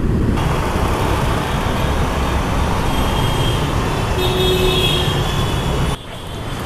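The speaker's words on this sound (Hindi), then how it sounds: "देखो हॉर्न का भी कितना शोर है" Dense city traffic near Bora Bazaar wholesale market rumbles steadily, with a brief tonal car horn sounding over the roar midway through before the noise eases near the end.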